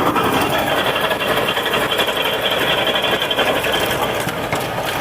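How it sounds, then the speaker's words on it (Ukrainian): An Arpal wood chipper cuts thin branches with a loud, dense, continuous mechanical roar and rattle. The noise stays close and steady throughout, with no voices over it. "Арпал це машина. Ось як гарно зрізає, такий зріз виходить."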